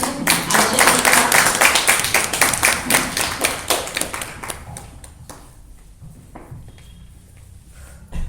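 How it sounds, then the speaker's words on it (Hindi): An audience gives a loud burst of applause to welcome a performer onstage, with dense clapping that thins out and fades into scattered claps and quiet. "जोरदार ताली से स्वागत कीजिए आयशा जी का"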